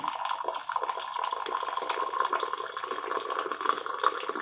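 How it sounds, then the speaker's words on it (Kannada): Boiled cumin and cardamom water is poured out in a home kitchen, making a faint, steady trickle with small dripping splashes throughout and no voices. "ಇವಾಗ ಜೀರಿಗೆ ನೀರು ಕಾದಿದೆ ಅದನ್ನು ಹಾಕ್ಕೊಳ್ಳೋಣ"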